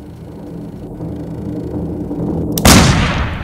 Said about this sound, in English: Oh, nope, that was definitely a gunshot.